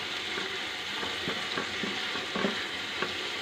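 Spice masala for chole fries in a pan, a steady close sizzle broken by repeated scraping stirs of a spatula at irregular intervals.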